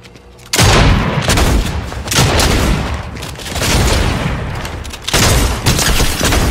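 Striker gun firing in the Fortnite video game, a loud, continuous barrage of close blasts that runs almost without pause, with a short break before the shooting picks up again.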